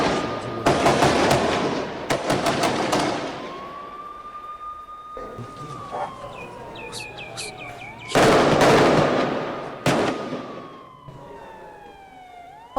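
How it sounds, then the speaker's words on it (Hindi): Attack on an Israeli army unit with a bomb blast and gunfire, heard as loud sharp bursts of impulsive reports, with a wailing siren sweeping across the middle and more bursts near the end. "इजरायली सेना की टुकड़ी पर बम से हमला करने का ये वीडियो भी सामने आ रहा है"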